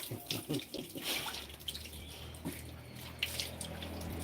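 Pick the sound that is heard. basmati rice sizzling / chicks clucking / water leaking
water leaking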